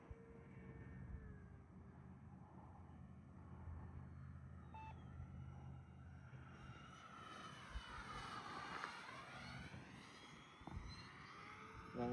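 An E-flite Airbus A320 RC model plane makes a flying pass, its engine whine swelling and sweeping down in pitch as it goes by at a distance, over a constant low rumble.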